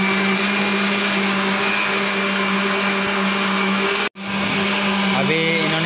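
A blender whirs loudly and steadily while making a mango milkshake, its motor cutting out briefly near the end before restarting with a changed, lower note.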